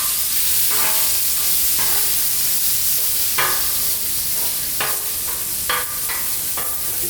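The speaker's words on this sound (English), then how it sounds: "So I'll put some butter on here as well. Just put it in the oil." Butter sizzles in hot oil on a Blackstone griddle during a rainy outdoor cookout. The hiss is steady and continuous, with sharp crackling bursts popping up every second or so.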